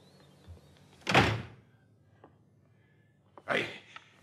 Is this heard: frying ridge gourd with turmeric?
no